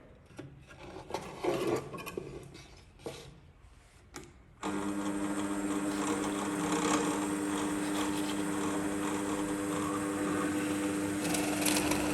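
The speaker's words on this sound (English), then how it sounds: "Having used a Forstner bit to remove the majority of the material" A Forstner bit bores into wood to clear material for a mortise. Several seconds of scraping and rubbing give way to a loud, steady high-pitched drilling whine that runs to the end. No one speaks.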